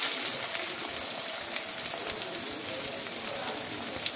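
Continuous crackling sizzle of spices and garlic tempering in hot oil in a pan, close and fairly loud, steady throughout.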